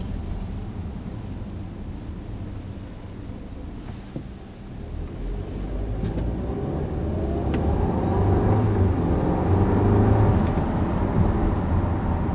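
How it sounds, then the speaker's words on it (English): A 2019 Audi A4 sets off on a test drive, its engine and road noise heard from inside the cabin as a low rumble that builds steadily louder over the second half, with no talking. "So setting off in the 2019 A4, you know, the engine is unchanged from last year"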